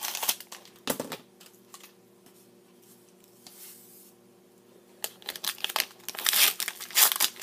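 Scissors cutting open 2014-15 Upper Deck Series 2 hockey card jumbo pack wrappers, close crinkling and crackling plastic in bursts, quieter in the middle and busiest toward the end.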